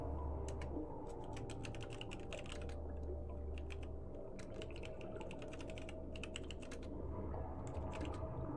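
Typing on a computer keyboard, bursts of rapid clicky keystrokes with short pauses over a steady low hum, close and moderately loud, no talking.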